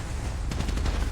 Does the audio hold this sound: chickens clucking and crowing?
no